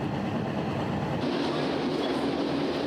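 A steady rumble and rattle of an older Portuguese train rolling along the tracks from Porto beside the Douro River, heard from inside, continuous and moderately loud.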